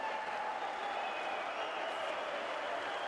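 Home crowd in Bulgaria applauding a home boxer after his unanimous points decision at a boxing tournament, a dense, steady wash of clapping and cheering that fills the whole stretch without letup.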